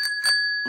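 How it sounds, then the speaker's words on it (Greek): A bicycle bell in a cartoon rings with a bright, sustained metallic tone, struck twice quickly, followed by a brief rattling sound. "και αυτό είναι το κουδούνι."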